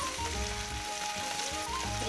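Mixed vegetables fry in a little oil for a Bengali rui fish curry, giving a close, steady sizzle with soft stirring scrapes.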